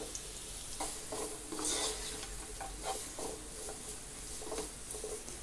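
Sliced carrot sautéing with onions in a pan, a quiet hiss under soft, repeated stirring scrapes and patters, close and alone.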